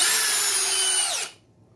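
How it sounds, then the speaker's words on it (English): A DeWalt 12V brushless drill in second gear runs loud and steady as it drives a 3-inch deck screw into wood, then the motor cuts out abruptly and only faint room noise remains. "the big deal about this 12-volt brushless drill is, yeah, it will do 3-inch deck screws in second gear."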